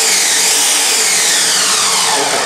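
A Ninja Mega Kitchen System 1500-watt, 2-horsepower blender runs at full speed chopping food, a loud, continuous high-pitched whir with a slight shift in pitch as the contents break down, no talking.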